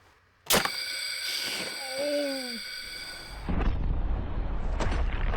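A single sharp, loud gunshot cracks out at a dummy head, followed by a ringing, whining tone and brief vocal sounds, then rumbling handling noise near the end.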